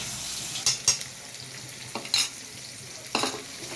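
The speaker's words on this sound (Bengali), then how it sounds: "পেঁয়াজ কুচানোটা দিয়ে একটু হালকা করে নেড়ে চেড়ে একটু লাল, মানে একটু সামান্য একটু লাল লাল ভাজা ভাজা হবে" Chopped onions fry in a pan for chilli chicken under a soft, even sizzle, with four short scraping strokes of a spatula stirring them, close and unaccompanied by voices.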